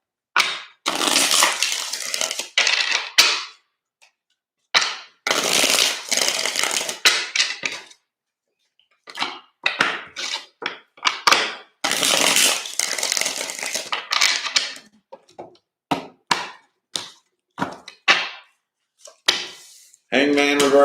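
Tarot cards shuffled in repeated bursts of crisp riffling and slapping, close and fairly loud, with brief pauses between rounds and a voice speaking in between.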